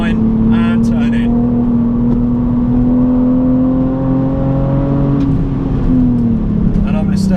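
A BMW Z4 on a race track brakes hard and downshifts to third, its engine a loud steady in-cabin drone that dips in pitch toward the end, with a voice talking over it.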